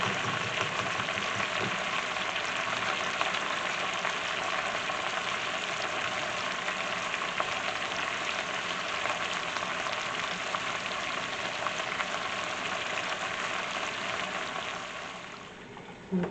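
Ground beef sizzles steadily in a hot pot on the way to becoming soup, a loud, even crackling hiss that stays constant throughout and softens slightly near the end.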